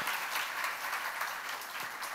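Congregation applauding during a sermon at a church seminar, a soft, distant wash of steady clapping that holds evenly without talk.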